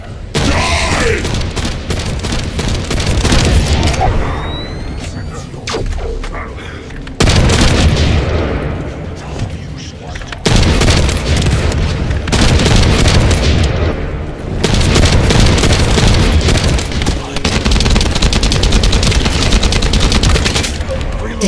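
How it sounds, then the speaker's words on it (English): A precision bomb goes off in The First Descendant, amid dense, loud bursts of rapid gunfire and heavy booms that cut in and out in several long barrages, close and overwhelming. "Time to try out Lord Karel's gift to me. This precision bomb."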